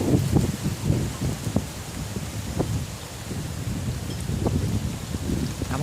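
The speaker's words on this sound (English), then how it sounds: "I made it rain again." Steady rain falls outdoors with a continuous soft hiss, mixed with low rumbling gusts of wind against the microphone and scattered dull thumps.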